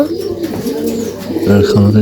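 Desi pigeons at a farm in Noakhali coo in low, throaty pulses while one goes to feed its chick. Close and fairly loud, with a fuller coo near the end, over a person talking.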